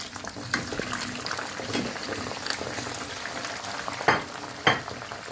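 Steady, dense sizzling of peppers frying in hot oil in a pot, with a couple of brief clattering stirs near the end.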